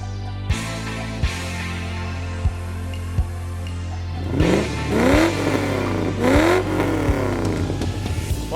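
An all-aluminium 3.5 litre V8 in a 1984 Rover Vitesse (SD1) idles with a steady low pulse and a few soft knocks, then is blipped through several sharp, rising revs that fall back between each, close and clear with no talk.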